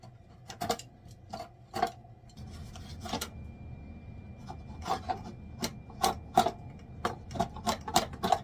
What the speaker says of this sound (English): I'm going to try the draw knife